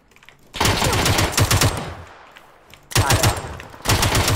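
Automatic gunfire in PUBG hammers out in rapid, loud, close bursts, pausing briefly between volleys, with a short spoken exclamation heard between the shots.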